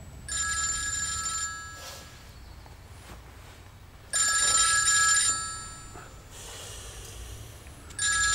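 Telephone ringing in a drama scene, bursts of electronic ring tone repeating in a pattern of roughly a second or more with quiet gaps between, with soft breathing and small movements audible in the pauses.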